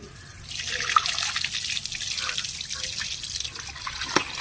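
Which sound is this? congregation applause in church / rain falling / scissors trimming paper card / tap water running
tap water running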